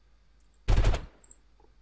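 A short, loud burst of rapid automatic gunfire rattles at the player in the Delta Force video game during an Uzbekistan mission, lasting about a third of a second amid near silence.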